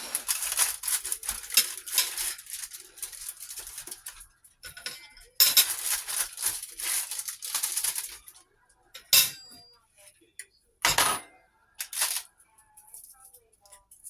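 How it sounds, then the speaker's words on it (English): A metal spatula scraping and clinking against a pan, bursts of rough scraping alternating with sharp isolated clanks and pauses, close by, with occasional talking. "Just going to use the spatula from breakfast because why not?"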